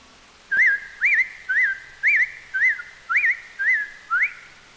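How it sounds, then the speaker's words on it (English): An American robin sings a cheerful series of about eight clear, rising whistled phrases, evenly spaced and close, alone with no talk. "One of the most familiar of our American birds is the robin. Don't you just love to hear his cheerful song?"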